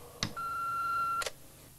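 An answering machine gives a single steady electronic beep lasting about a second, framed by faint clicks at its start and end, over a low hiss of line noise.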